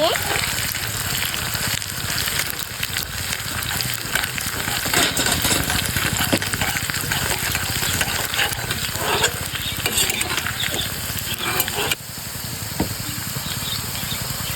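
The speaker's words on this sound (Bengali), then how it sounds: "এবার শালগম ও টমেটো দিয়ে দিচ্ছি, সুন্দর মতো নেড়ে নিচ্ছি।" Turnip and tomato with browned chopped onion sizzle and fry in a pan for village-style turnip bharta, a spoon stirring and scraping steadily throughout with a continuous loud frying hiss.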